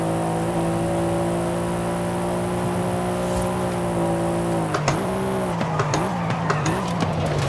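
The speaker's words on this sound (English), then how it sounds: "You can see the tires skidding out." Car tires squealing and skidding in Forza Horizon 5 over a steady revving engine drone, the pitch dipping and wavering as the car slides, with rapid skid chirps toward the end.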